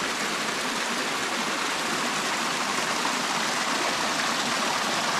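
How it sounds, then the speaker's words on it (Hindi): Water running as a stream down a village road, a loud steady rushing gush with no break, close by and alone without speech. "ये देखिए, आजकल यहाँ भी पानी आ रखा है भाई,"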